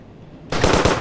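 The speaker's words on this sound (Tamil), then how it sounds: "நான் சுட்டுக்கிட்டே இருக்க பாரு." Rapid burst of machine-gun fire in a shooting video game, starting abruptly after a quiet moment and rattling loudly up close.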